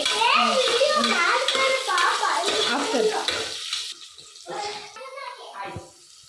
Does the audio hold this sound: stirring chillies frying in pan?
yes